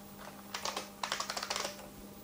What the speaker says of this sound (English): Every time I press the keyboard, the machine's sluggishly hauling